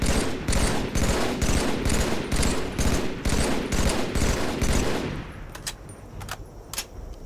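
A battle rifle in the Halo 3 alpha fires about ten evenly spaced, loud bursts in a steady rhythm, then the shooting stops, leaving a few faint, sparse clicks.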